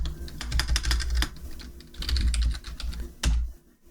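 Quick bursts of typing on a computer keyboard, close and crisp clusters of key clicks separated by short pauses, ending with a final few strokes before quiet.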